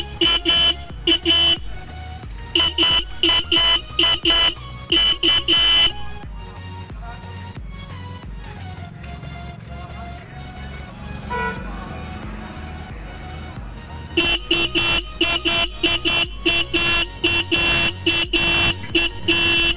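A repaired Hero Passion Pro motorcycle horn sounds in rapid repeated bursts, loud and close, then pauses for several seconds before honking again in a quick string of short toots.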